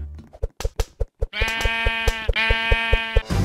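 Sheep bleat on a farm in the Roblox game Farming Simulator: a series of sharp rhythmic clicks gives way to two long, loud, wavering bleats up close.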